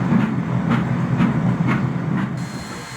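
Steam locomotives puffing along a railroad track, with regular chuffs roughly twice a second over a steady rolling rumble and rail clatter, close and fairly loud, no voices.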